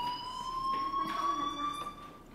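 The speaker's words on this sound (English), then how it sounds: "Hey, do you hear that fire alarm? That means you should be outside." A fire alarm rings in the video game Life is Strange, a steady electronic tone with high harmonics droning without a break under a faint background murmur.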